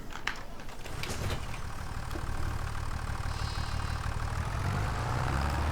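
A tractor engine idles in a farming video game, a steady low rumble that runs unbroken and fairly loud throughout, with a faint mechanical clatter layered over it.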